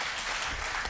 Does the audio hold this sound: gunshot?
no